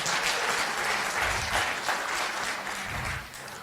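A lecture audience of mothers applauds, a broad, sustained wash of clapping that holds steady for several seconds before easing off slightly at the end.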